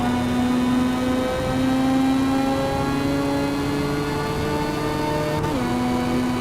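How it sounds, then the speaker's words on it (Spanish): Rotary engine of a 1990 Mazda Savanna RX-7 in a racing game, a loud, steady buzzing drone that climbs in pitch through the gears with brief drops at each shift, heard alone without voices. "Llévenlo al límite de revoluciones, 8500 revoluciones por minuto, creo."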